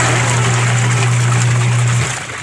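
A repaired washing machine tub spinning with a little water inside gives a steady, loud motor hum over a watery wash. The hum stops abruptly near the end.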